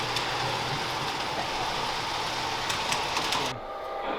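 Model trains running on the main line of a large layout with about 140 feet of track give a steady, continuous rumbling whir close by, with no talk.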